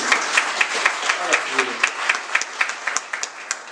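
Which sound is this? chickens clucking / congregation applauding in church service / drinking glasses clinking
congregation applauding in church service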